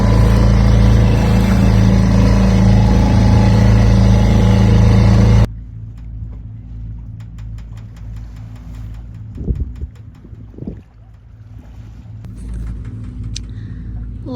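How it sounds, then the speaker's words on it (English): A 15 HP two-stroke outboard motor on a boat in the Berry Islands drones loudly and steadily at first, then cuts to a quieter low rumble with scattered faint knocks and clicks. "I am going with the outboard here"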